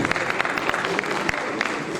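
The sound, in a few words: audience applause at an award ceremony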